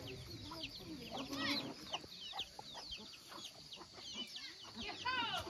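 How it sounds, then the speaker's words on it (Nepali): A rooster clucks in short, repeated bursts, quiet and slightly distant, with small birds chirping in the background, beside a small shop on a hiking trail to Chuli Pokhari, Nepal. "बुन्सी कुखुरा बुन्सीको यो भाले"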